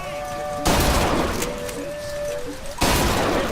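Gunfire from the video game BioShock Infinite while shooting at traitor targets: loud, dense bursts of shots that start abruptly, carry on for a couple of seconds over a steady tonal game sound, then stop before another burst begins.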